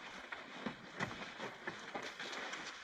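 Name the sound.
steam train running on the rails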